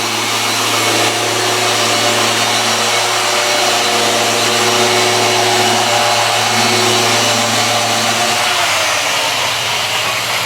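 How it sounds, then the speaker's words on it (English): A Rupes Mille gear-driven polisher runs nearby with a loud, steady whirring hum that holds for several seconds, then drops in pitch as it winds down near the end. "I sold them that polisher. Rupes Malay, the gear driven."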